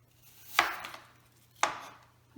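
An apple sliced with a knife, two crisp cuts about a second apart, each a sharp crunch ending in a knock on the board, close and isolated.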